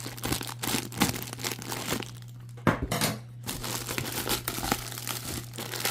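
A plastic package is torn open by hand with close, crackling crinkles and rustles, broken by a short pause and then more crumpling.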